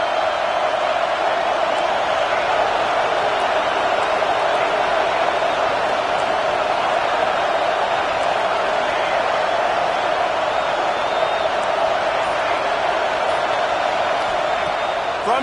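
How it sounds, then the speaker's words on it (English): A packed stadium crowd at a Texas college football game roars continuously as a broadcast announcer talks over the dense, steady wall of cheering and noise. "Listen to this crowd just shaking the girders of this place,"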